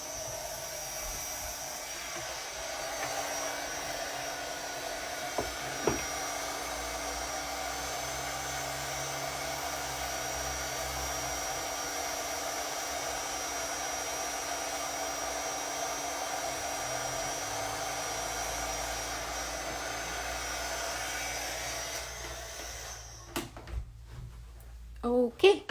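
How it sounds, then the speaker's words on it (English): A heat tool sets embossing powder on a stamped card panel, a constant steady blowing hum like a hair dryer running for over twenty seconds before it cuts off and a few clunks follow. "stepping away and heat setting this"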